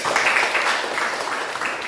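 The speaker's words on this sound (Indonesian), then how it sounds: "Tepuk tangan dulu." A room of people breaks into brief, dense applause, steady and fairly close, lasting throughout.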